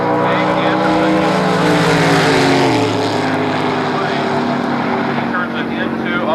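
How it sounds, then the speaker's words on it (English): Drag racers launch at a 1991 Scribner strip, a small-block Chevrolet Nova among them, loud engine roar holding steady pitch then dropping as revs shift, continuous and close with no talk. "Good reaction time for both racers, but the little Chevrolet Nova, Dave Anderson,"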